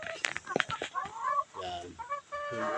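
Chickens cluck and squawk nearby in short, uneven bursts, a quiet busy chatter of several birds close together.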